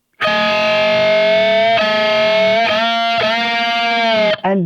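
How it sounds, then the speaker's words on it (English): Distorted electric guitar sustaining two notes together that bend and waver in pitch, loud and upfront, with a brief stutter at the end. "you're going to hit them together, and you're going to bend them at the same time"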